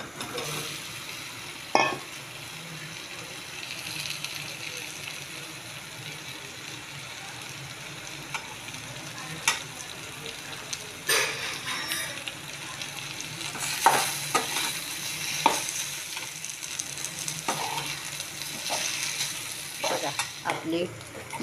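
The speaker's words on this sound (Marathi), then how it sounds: "आता आपण बटाटे टाकून खालवर करू." Potatoes with chilli, salt and turmeric frying in a pan for a home-cooked potato dish. A soft sizzle runs throughout while a spoon stirs and scrapes, with occasional sharp clinks against the pan, close and unaccompanied by speech.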